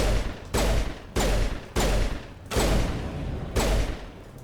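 Pistol shots from the Mass Effect video game ring out at a steady pace, six or so loud close single shots each about half a second apart, with no voices.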